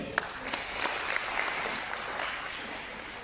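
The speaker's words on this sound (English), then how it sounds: "So, round of applause for them, please." An audience at an Australian citizenship ceremony on Australia Day applauds, a fairly soft, even spread of clapping from a seated crowd with a few sharper claps standing out.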